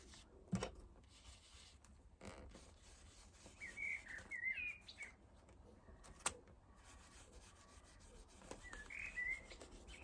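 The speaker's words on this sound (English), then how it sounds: "As usual, we've got the birds out there for company." Small birds chirping in short, scattered calls at a distance, with occasional soft rustling and bumps close by in an otherwise quiet outdoor setting.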